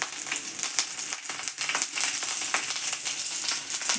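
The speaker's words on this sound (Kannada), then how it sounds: "ಇದಕ್ಕೆ ಬೆಳ್ಳುಳ್ಳಿ ಈರುಳ್ಳಿ ಹಾಕ್ತಾಯಿದ್ದೀನಿ ಫ್ರೈ ಆಗಿ." Garlic and onion frying in a pan for a Mangalorean chicken dry, giving a steady, close hissing sizzle with small crackles throughout.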